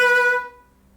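A single bowed or plucked string instrument note is cut short, ringing brightly for under half a second before decaying quickly to near silence, heard alone.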